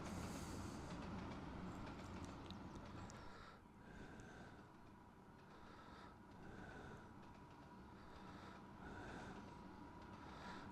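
A train running in the Trainz railway simulator, an older-model locomotive, rumbling steadily with broadband rail noise and recurring mechanical clatter throughout, fairly loud and continuous with no talk.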